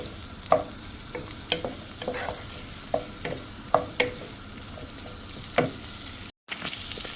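Onion and bell pepper frying in a pan, a steady sizzle broken by repeated spoon scrapes and taps as the vegetables are stirred, close and fairly loud, with no one talking.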